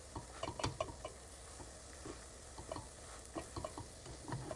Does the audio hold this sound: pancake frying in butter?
yes